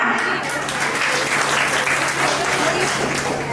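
Steady, loud applause from a crowd at a baby shower, filling the whole stretch with dense clapping and no clear break.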